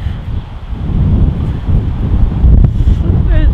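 Strong wind buffets a microphone outdoors in cold, blustery weather, a loud, continuous low rumble and roar that fills the whole span close up.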